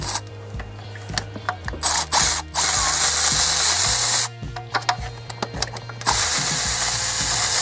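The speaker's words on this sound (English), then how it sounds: "Ratchet." Hand ratchet working loose the thermostat housing bolts on a 2008-2014 Dodge Avenger 2.4 engine, close and loud, with bursts of rapid pawl clicking separated by short pauses as each bolt is turned.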